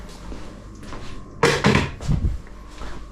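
A seasoned chicken dish in a pan is covered before baking, with a few sharp clattering knocks and thuds from the lid or covering being handled at close range; no one speaks.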